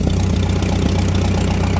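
A Farmall H tractor engine idles steadily at low RPM, a close, loud, continuous low rumble with a faint rhythmic knock running evenly throughout, no voices over it.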